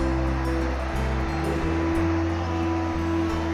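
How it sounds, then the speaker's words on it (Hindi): Dhuandhar waterfall at Bhedaghat's marble rocks flows in a steady, broad rushing roar, distant and continuous, with a low hum underneath and no talking. "सामने देखिए झरने बह रहे हैं वहाँ"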